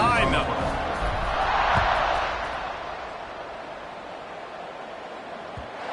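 A stadium crowd roars steadily at a football kickoff, a broad distant wash of cheering that swells early and then eases to a lower rumble.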